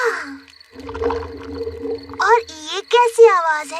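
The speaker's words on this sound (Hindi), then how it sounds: "ये डैडी के पेट की आवाज है।" Cartoon sound of a father's stomach rumbling in a children's animated show, heard as low, gurgling, whale-like moans under and between a child's speech.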